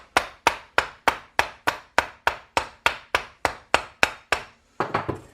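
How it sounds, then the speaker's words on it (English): Steady, evenly spaced knocks of a wooden hammer striking a stuck vehicle starter, about fifteen sharp blows in a row, loud and close, ending in a brief clatter. "Let me get my little wooden hammer here"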